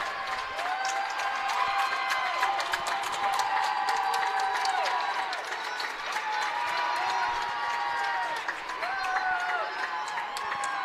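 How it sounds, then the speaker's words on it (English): Basketball crowd at a boys varsity high school game, Pulaski vs Preble, cheering and applauding steadily throughout, with whistle-like squeaks and shouts rising over a dense wall of clapping, fairly loud and continuous. "Now the crowd getting into it"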